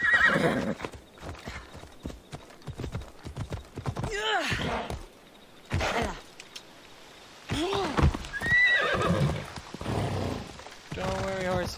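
Horse hooves clip-clop and a horse neighs and whinnies several times in Assassin's Creed Odyssey, the whinnies rising and falling clearly over steady galloping, with game sounds and some voice between.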